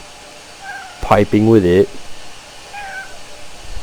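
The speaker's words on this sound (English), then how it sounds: "As my kitty screams in my ear." Pet cat letting out a loud, drawn-out meow close by, preceded by a short rising cry and followed by a faint trailing mew; a voice speaks briefly at the start.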